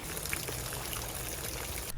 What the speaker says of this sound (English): We just have water pouring in through somewhere.